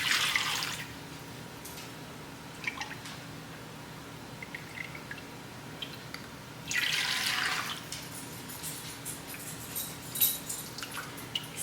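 Homemade beef bone broth poured and strained in batches for canning, heard as two close bursts of splashing liquid, one at the start and one later, with quiet trickles and faint clinks between them and no talk.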